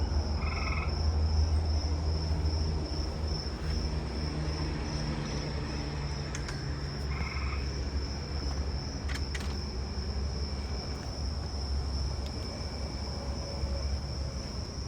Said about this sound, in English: I'm hearing the Carolina ground crickets back here